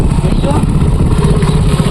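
A motorcycle engine rumbles close by in a steady, low idle, with some clatter and voices mixed in.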